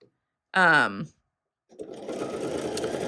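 A sewing machine stitches elastic onto a dress fabric, running in a steady close whirring buzz for the last second and a half after a short spoken phrase and a pause.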